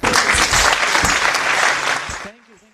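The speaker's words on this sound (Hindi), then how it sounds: "शाम के लिए एक बार जोरदार तालियां हो जाएं" Loud, dense applause from an audience at a kids' dance club evening show fills the clip steadily, then drops away abruptly near the end, leaving quiet room tone.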